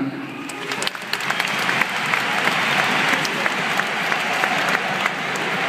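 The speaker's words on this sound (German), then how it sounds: "Applaus" Sustained applause from a stadium crowd at a FC Augsburg versus Werder Bremen football match, following a memorial minute; steady, dense clapping throughout with a few sharper claps on top.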